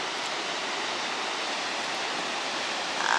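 A waterfall roars steadily on a calm morning, a broad, even rush of falling water that holds unchanged throughout, heard alone.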